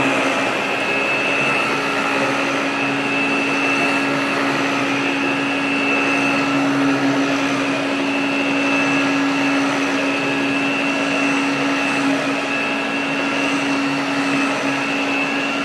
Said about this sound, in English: This is a Canadian vacuum.